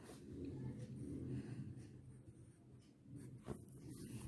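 Pen or pencil strokes forming the Hindi letter ल on paper in a kindergarten Hindi lesson, a steady soft scratching that runs close and continuous, with slight pauses between strokes.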